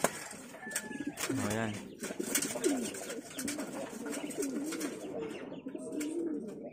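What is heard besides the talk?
pigeons cooing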